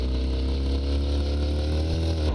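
A motorcycle engine idles and hums steadily at close range in the video game TABG, a short low mechanical drone with no talk over it.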